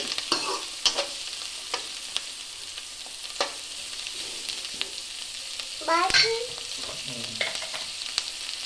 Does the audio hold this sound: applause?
no